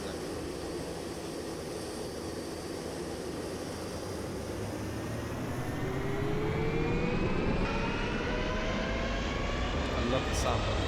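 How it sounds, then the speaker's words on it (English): Eclipse 550 jet in the X-Plane 11 flight simulator, a steady loud turbine roar with whining tones that climb in pitch as the engine spools up, continuous throughout. "I love the sound of this jet."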